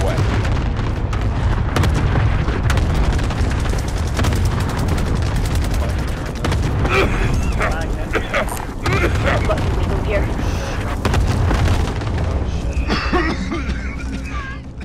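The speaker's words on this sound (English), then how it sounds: "Cluster strike away." Cluster strike explosions in Call of Duty: Modern Warfare roll in as heavy, continuous booms layered with gunfire, loud and dense for the whole stretch and mixed with game battle noise.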